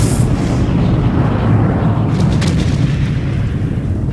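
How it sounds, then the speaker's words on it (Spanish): Explosion of the USS Maine battleship, rendered as a loud, sustained deep rumbling roar that fills the whole clip with a heavy low-end blast and faint crackling debris on top. "una terrible explosión partió la nave a la mitad"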